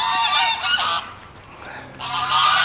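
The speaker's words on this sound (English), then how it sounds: "And these geese come out." Geese honk loudly on a country road in two close bursts of harsh, overlapping calls separated by a short lull, with no talking.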